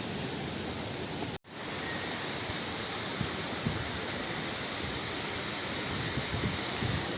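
A waterfall along the Kedarnath trek near Jungle Chatti roars in a steady, loud, broadband rush, cut by one brief dropout before continuing unbroken.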